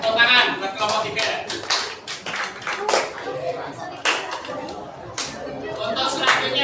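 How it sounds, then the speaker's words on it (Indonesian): Classroom of students applauding a presenting group, a dense burst of hand clapping lasting several seconds with chatter and voices mixed in, close and fairly loud. "Tepuk tangan buat kelompok 3."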